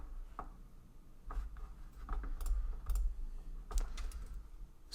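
Typing on a computer keyboard during a Flutter coding session, a run of quiet, irregular key clicks coming close and alone with no voices.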